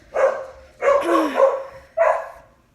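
A dog barks three times, loud and close, with short pauses between the barks.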